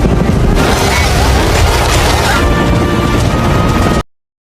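A robot dog self-destructs in the film A.X.L, making a loud, sustained blast with crashing, crackling debris and rumble for about four seconds before cutting off abruptly.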